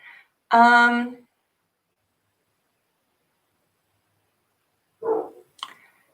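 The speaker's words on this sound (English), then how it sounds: "My dog is barking." A single loud dog bark, then a long silence, followed by a couple of shorter, quieter yelps.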